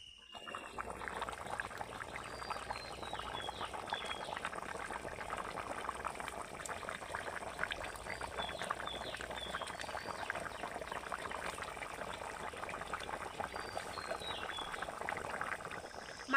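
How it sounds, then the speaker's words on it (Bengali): Chicken and potato curry bubbles vigorously in a pot over high heat, a steady, soft, continuous burble and crackle of boiling liquid lasting throughout, fairly quiet and with no talking. "এবার আমি ভালো করে জাল দিয়ে ফুটিয়ে নেব।"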